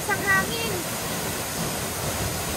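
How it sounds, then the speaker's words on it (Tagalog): Strong rushing water gives a loud, continuous broadband roar with a brief whistle-like tone near the start and no clear voices over it. "Malakas ng tubig eh."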